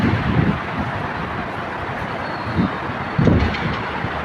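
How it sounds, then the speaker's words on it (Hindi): A Dubai metro train passes at a distance, a broad rumbling wash mixed with wind noise and a few louder gusts, with no talk over it. "मेट्रो जा रही है उधर से।"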